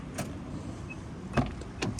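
The electric sliding door of a 2015 Nissan Quest SV minivan closes: a steady motor whir runs under a couple of sharp clunks and latch clicks near the end, close by and with no voices.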